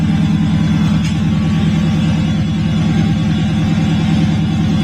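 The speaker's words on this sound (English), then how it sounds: "we're going to start the car up so that we get our voltage up" A Dodge Challenger engine runs at a steady idle after being started, a loud continuous low rumble with a regular throbbing pulse throughout.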